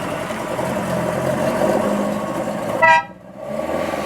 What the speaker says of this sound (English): Cool horn.